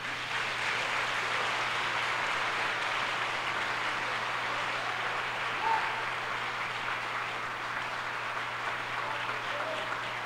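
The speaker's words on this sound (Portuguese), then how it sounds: "Aplauda o Senhor, querido." Steady applause from a church congregation at a revival congress, a dense even wash of clapping holding for the whole stretch with no voices standing out.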